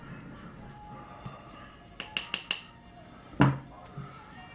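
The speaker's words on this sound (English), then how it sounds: "Let me stir my flour up a bit." Flour is stirred in a mixing bowl for oven-baked yeast bread: a utensil clinks against the bowl in a quick run of four sharp taps, then one louder knock, over quiet room noise.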